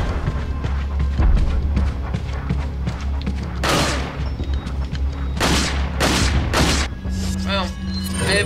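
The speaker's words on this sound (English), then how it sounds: "Guess I'm using my pistol for this next part. After two shots, I can put it away." Pistol shots from Resident Evil 4 ring out as several sharp, loud bangs spaced a second or two apart, mixed with game sound effects and background noise.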